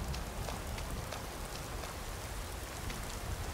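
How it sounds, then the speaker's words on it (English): Rain falls in Skyrim's Reach region, a steady, even hiss of drops with a patter that holds at one level throughout and no voices or other sounds over it. "And it's raining."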